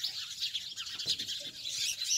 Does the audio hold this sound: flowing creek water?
no